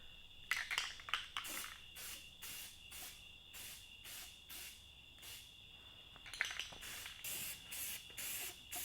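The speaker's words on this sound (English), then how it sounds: "this primer spray is very different" Primer spray paint hissing from an aerosol can onto a bicycle frame, a 1993 Cignal Zanzibar fixie, in repeated short bursts with brief pauses, close and fairly quiet, with no talking.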